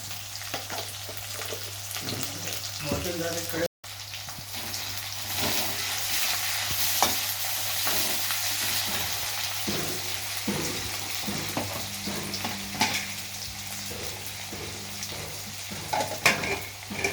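Onions frying in a pan while curry leaves are added for an okra curry, a continuous close sizzle with frequent spatula scrapes and stirring clatter, a brief dropout early on, and a louder crackle toward the end, with no one speaking.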